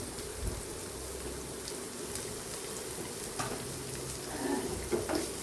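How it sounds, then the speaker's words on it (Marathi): Finely chopped onion hitting hot oil in a pan for a tinde (Indian round gourd) sabzi, giving a soft, continuous sizzle with a few small pops, fairly quiet and without speech. "आता याच्यात एक बारीक चिरलेला कांदा टाकून दिला"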